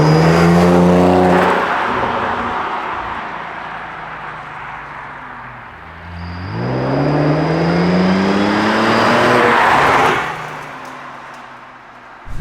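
A tuned Audi S4 with a turbocharged V6 drives by at moderate speed, its engine note loud up close and fading as it pulls away, then rising again as it accelerates past once more.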